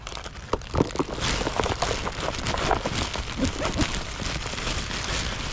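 Rain falls steadily beside a canal during a fishing outing, a dense, continuous hiss with scattered sharper drop impacts close by.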